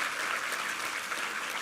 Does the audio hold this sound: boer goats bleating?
no